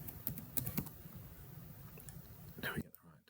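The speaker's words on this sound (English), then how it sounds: "we're going to start typing in here." A computer keyboard is typed on in quick, uneven bursts of close key taps over a soft background hum, then goes quiet near the end.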